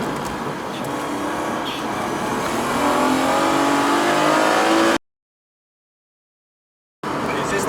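Race car on racing slicks at a track in Staiki, its engine droning and rising under acceleration with a faint pitch change at a gear shift, then cut off abruptly by two seconds of silence before the engine noise returns.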